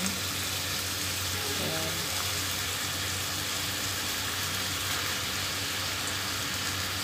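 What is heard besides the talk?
round mushrooms frying in a pan with sliced beef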